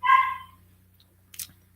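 Several sharp, loud barks from pet dogs ring out indoors in a quick burst at the start, followed by a fainter yelp a moment later over a quiet background hum.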